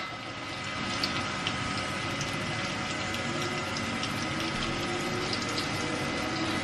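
Seasoned fish frying in a pan gives a steady, dense hiss and crackle of hot oil, holding at an even level throughout with scattered small pops.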